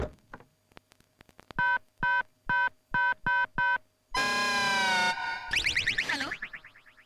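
A telephone number is dialed as a run of about six evenly spaced keypad tones, each short and clear, followed by a sustained ringing-style tone and a warbling signal, heard alone and close.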